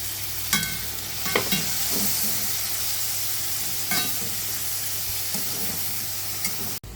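Capcay vegetables with carrots and green beans sizzle in a pan with a little added water, a steady hiss broken by several scraping stirs of a spatula, close by with no talking.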